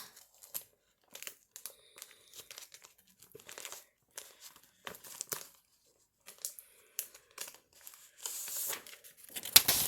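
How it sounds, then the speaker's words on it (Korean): Sheets of colored origami paper rustle and crinkle in short, intermittent bursts at close range as they are taken out and handled. A louder stretch of crinkling comes at the end, with no talk. "색종이는 옆에 있으니까 꺼내 보도록 하겠습니다"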